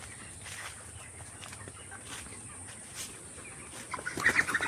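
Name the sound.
chickens clucking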